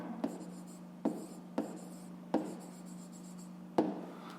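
Pen strokes on paper while working through a fifth-grade math exercise: several short scratchy bursts of writing, close and fairly quiet, separated by brief pauses over a steady low hum, with no talking.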